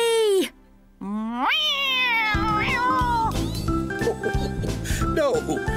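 Cartoon cat meowing in a children's animated series, several stretched, rising and falling meows up close, with musical backing and jingling sounds joining after the first couple of calls.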